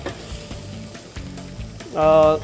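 Chopped onion sizzles in a hot pan for harira soup, a close, crackling fry with some clatter, and a brief tonal hum rises near the end.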